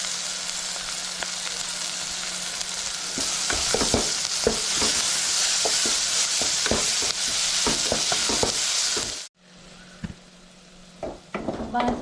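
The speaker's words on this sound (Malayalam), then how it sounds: "സവാളയൊക്കെ നന്നായിട്ട് മൂത്ത് വന്നിട്ടുണ്ട്" Onions browning in hot oil for a homemade samosa filling give a loud continuous sizzle with frequent clattering spoon stirs, then drop suddenly to a much quieter sizzle near the end.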